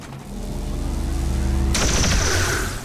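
Pistol fire in the video game XCOM 2: a dense, continuous rattle of gunshots lasting a few seconds, shifting to a brighter, sharper burst toward the end, with no talking.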